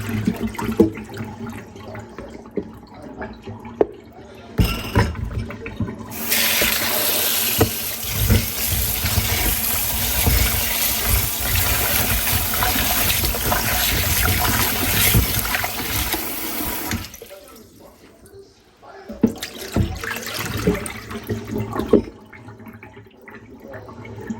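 Cassava starch being washed by hand with water until it runs clear: close splashing and sloshing, then a long stretch of steady rushing, running water that stops abruptly, followed by softer splashes and drips. No one speaks.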